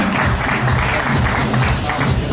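Steady dense clapping from an audience at an awards ceremony, loud and continuous with a roomy wash, no distinct individual claps standing out.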